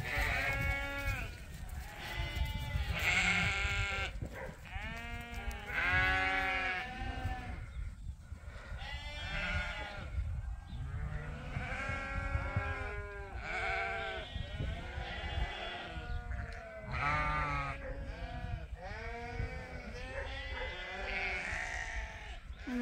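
Sheep on a farm bleat over and over, many overlapping calls from a close flock at morning, loud and continuous with varied pitches and no pause.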